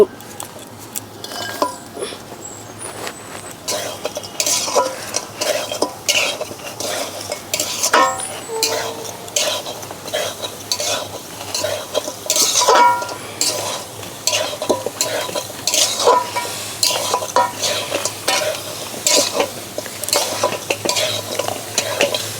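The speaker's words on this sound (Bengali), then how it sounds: "আমার নারকেলটা প্রায় ভাজা ভাজা হয়ে গেছে এখন আমি দিয়ে দেবো এর মধ্যে গুড়" Coconut and jaggery fry in a pan as pitha filling, a spoon scraping and stirring continuously over a soft sizzle, with frequent clinks of metal on the pan, close and steady.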